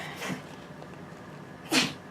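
Two short, breathy sneezes in a quiet indoor space, the second louder and closer than the first.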